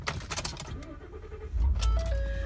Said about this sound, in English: I'm just going to start up the truck for you.